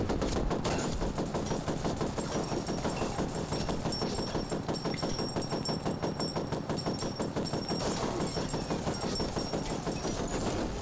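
Continuous enemy machine-gun fire in the shooter game F.E.A.R. Extraction Point, dense rapid bursts that run loud and unbroken from start to finish.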